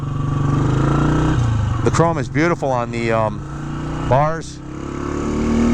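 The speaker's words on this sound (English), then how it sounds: "Nice exhaust note from the dual exhaust, and it moves on out." A 1959 MV Agusta 150RS Rapido Sport motorcycle with dual exhaust pulls away, its engine note rising and falling through a few revs near the microphone while someone talks over it.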